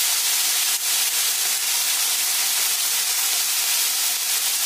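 Grated ginger and other ingredients frying in a pan while cooking dalia, giving a steady, close, dense hiss that runs unbroken from start to finish with no talk.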